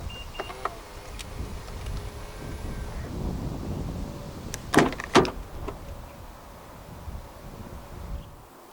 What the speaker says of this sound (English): And to unlock the trunk, press the button on any of the front door handles again.